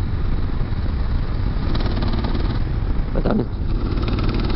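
A BMW F850GS enduro motorcycle rides in sixth gear with its engine clattering, a loud continuous rumble and rattle close by, with a brief spoken remark over it.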